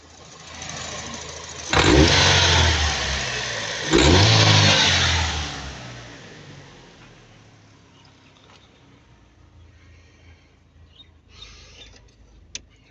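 A Daewoo Nexia car engine running on petrol gives two loud, close revs of about two seconds each, then settles into a quieter idle with faint clicks and rattles toward the end.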